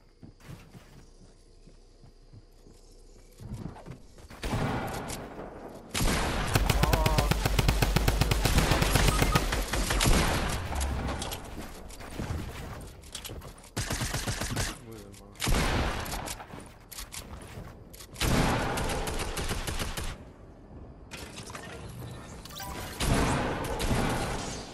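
Gunfire in the Fortnite video game: repeated loud bursts of rapid automatic shots and single cracks, close and harsh, separated by brief quieter gaps, with voices talking over parts of the action.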